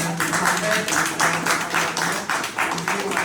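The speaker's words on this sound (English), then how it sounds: "Spanish medical responders deserve a round of applause right now" Rhythmic clapping from a talk show audience, a steady pulse of claps at a fairly even beat, close and loud, with a faint voice in the background.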